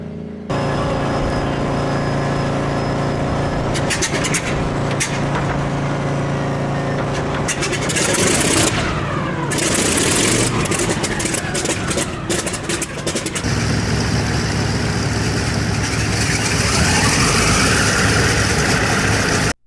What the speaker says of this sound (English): The first thing we'll look at is the great CL-215 radial engine. Listen to this engine start.